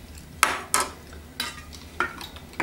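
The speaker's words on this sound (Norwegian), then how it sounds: "Så rører vi litt igjen." A spoon knocks and scrapes around a glass jug of cordial and Sprite Zero, a few distinct clinks spread over a couple of seconds against a low fizzy hiss, close and moderately loud.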